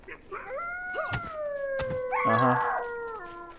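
A creature in the game ASKA howls in long, wavering wolf-like tones, two drawn-out howls with a rising and falling pitch, close and clear, with a brief spoken murmur and a few clicks.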